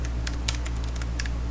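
Typing on a computer keyboard while entering text for a GNOME Shell extension: a quick run of light, crisp key clicks in uneven bursts over a steady low hum, close and fairly quiet.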